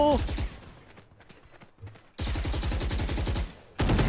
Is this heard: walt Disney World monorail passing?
no